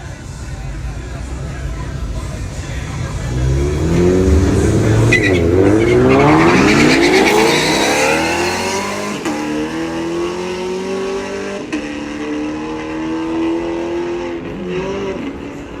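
A 1974 Oldsmobile with a 350 Rocket engine and rebuilt carburetor drag racing at a dragstrip, engines roaring loudly as cars launch and pass with rising, falling revs and tire noise, fading to a steady rumble with crowd and background voices.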